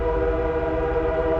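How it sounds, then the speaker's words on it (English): A train rolls past near woodland, a steady, fairly loud rumble with sustained tonal horn-like bands running through the whole moment, no voices. "there's a train going by."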